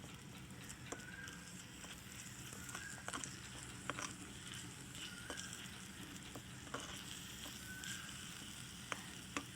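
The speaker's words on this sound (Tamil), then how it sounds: "இஞ்சி பூண்டு பேஸ்ட்டு போட்டுக்கலாம் இப்போ வதக்கிக்கலாம்" Ginger garlic paste sautéing in a pan for a capsicum kulambu, giving a steady low sizzle and frying crackle with occasional sharp clicks of a spoon against the pan, with no speech.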